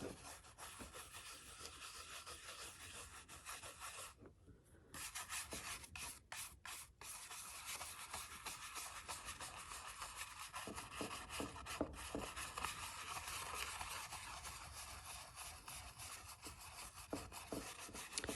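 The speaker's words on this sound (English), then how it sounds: "I want to rub that leafing into the adhesive" Gold leaf flakes being rubbed into adhesive on a greeting card, a faint, steady close-up rubbing and scratching texture with short pauses, alone without talk.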